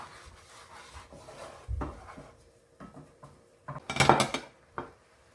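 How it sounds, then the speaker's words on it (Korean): A utensil scrapes and clinks against a pan while gochujang is stirred to keep it from burning, with quiet intermittent rubbing and a louder scraping burst near the end. "고추장이 타지 않도록 가끔 저어 주셔야 됩니다."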